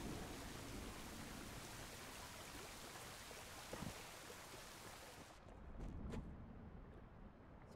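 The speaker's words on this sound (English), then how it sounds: "So it still shows everything getting wet in the rain." Rain patters softly and steadily in the video game Smalland: Survive the Wilds, a faint hiss of falling water that drops away abruptly toward the end.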